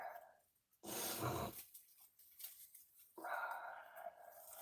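A farm dog barks and growls in short bursts, a loud stretch near the start and another toward the end, with quieter rustling in between.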